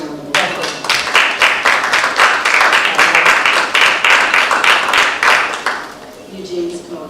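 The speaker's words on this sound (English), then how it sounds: "Another round of applause." Audience applause at a Tougaloo College convocation, loud rhythmic clapping in bursts with voices mixed in, fading somewhat toward the end.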